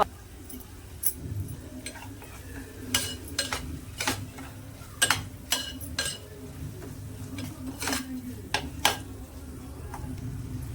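A spoon stirs mutton masala and turmeric into a pan of egg bhurji, giving intermittent sharp scrapes and metallic clinks over a low, steady sizzle.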